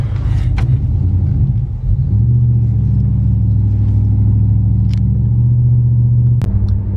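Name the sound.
Ram truck with swapped 8-speed transmission driving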